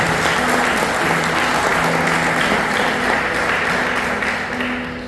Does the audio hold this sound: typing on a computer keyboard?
no